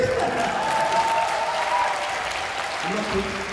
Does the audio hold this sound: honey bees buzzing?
no